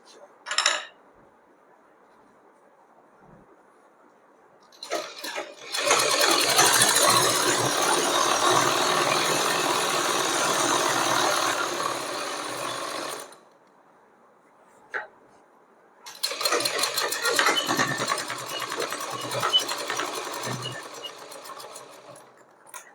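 Sewing machine stitching Afghani pants fabric, a dense rattling run of several seconds, a brief pause with small clicks, then a second long stitching burst, close and fairly loud with no voices.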